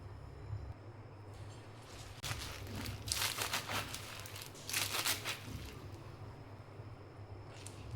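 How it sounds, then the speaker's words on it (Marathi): Fresh spinach finely chopped with a knife, crisp crunching cuts growing denser and louder through the middle, heard up close with no voices. "बारीक चिरून घ्यायची."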